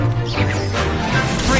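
A fire spell being cast in Hogwarts Legacy, a loud, dense whooshing crackle of flame with a low rumbling body that fills the moment without pause.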